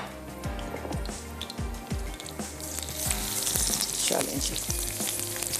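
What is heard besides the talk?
onions and green chilies frying in oil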